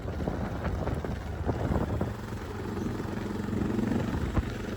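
Light wind on a hillside valley after heavy rain buffets the microphone with a steady low rumble and soft gusts, continuous and fairly quiet throughout.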